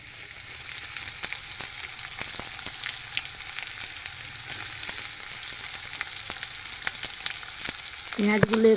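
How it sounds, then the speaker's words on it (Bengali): Chopped garlic fries in hot oil with a constant soft sizzle and occasional light pops and stirring taps, ending in a louder clatter. "রসুন কুচিগুলো দিয়ে দিলাম তেলে"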